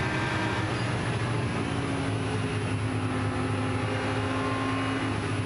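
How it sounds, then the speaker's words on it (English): Onboard engine of an Audi GT race car at Bathurst during a 12-hour race, a dense continuous drone holding steady throughout with no talk. "Let's ride on board with Ricardo and have a listen"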